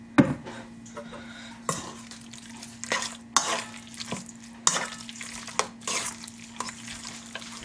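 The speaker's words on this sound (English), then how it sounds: "Give it another stir" Chicken stir fry being stirred in a pan, with a bed of soft sizzling broken by repeated scraping strokes and metallic utensil knocks against the pan, close and fairly loud.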